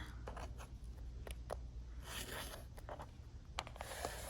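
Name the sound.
trimming sides of fabric quilt block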